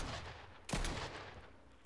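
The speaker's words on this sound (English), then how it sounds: "that's just a pistol with a drum mag" A single sharp shot from a drum-magazine pistol in Fortnite, one abrupt burst that rings out and fades slowly over a steady game background.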